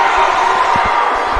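A crowd cheers loudly and continuously at a men's college volleyball match between Averett and Roanoke. The roar is steady and dense, with a few low thumps underneath.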